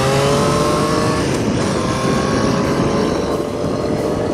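A motorcycle engine accelerating hard with a steady, loud, rising drone and no talking over it.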